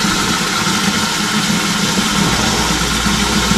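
A steady, loud mechanical hum of a boat's pump motor running nearby, an even droning rumble with no pauses or speech.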